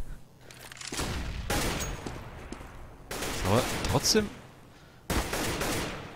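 Gunfire from Counter-Strike on the de_dust2 map during a LAN playoff match, with short bursts of shots separated by pauses, heard under German commentary.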